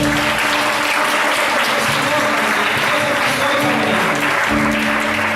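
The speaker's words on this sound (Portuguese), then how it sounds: "Pode aplaudir o Senhor, gente" A church congregation applauds during an evening service, a loud, dense, steady wash of clapping that carries on unbroken throughout.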